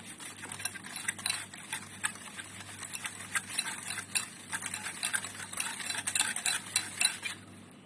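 Cake batter being stirred after boiled beetroot puree is added for a red velvet cake, a steady run of soft scraping, clinking and swishing strokes of a utensil against a bowl, close and continuous with no talk.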